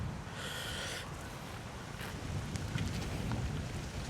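Strong wind buffets the microphone on the Da Nang seafront in Vietnam, a constant broad rushing roar with gusty swells and no voices.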